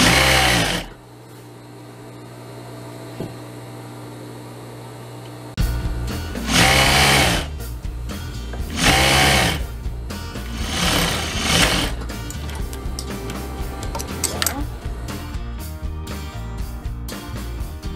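A sewing machine stitches along the seam around the pockets of a pleated skirt, running in several distinct bursts with short pauses between them, close and loud over a steady low motor hum, no talking.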